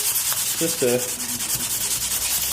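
Light polishing of slightly rusty AFX slot car track, a steady close rubbing scrape running throughout with brief faint voice-like tones partway through.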